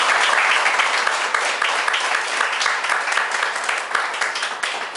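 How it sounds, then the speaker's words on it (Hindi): An audience at a Modicare business presentation bursts into vigorous applause, a dense, loud, sustained roll of many hands clapping close by with no break. "तो मेरे ख्याल से ताली बनती है इस बात की।"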